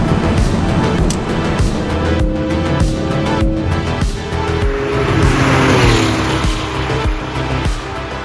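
A Porsche 911 ST accelerates hard from inside the cabin, its engine note climbing in steady pitch sweeps through upshifts, loud and continuous with road and tire roar throughout, no talking.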